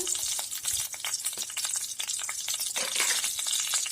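Mustard seeds and chana dal splutter in hot oil, giving continuous crackling and popping with scattered sharper snaps.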